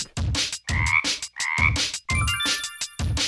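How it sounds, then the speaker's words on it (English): Frog croaking in a children's animal song: repeated loud, close ribbits with a tonal, slightly whistling quality, arriving in a quick regular rhythm against a musical backing. "It's a frog."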